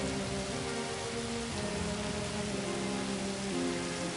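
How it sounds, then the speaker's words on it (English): Steady rain falls as a storm closes in, a dense, even hiss of drops on surfaces that holds at a constant level throughout, with no voices. "That storm's closing in. This drizzle's about to turn ugly."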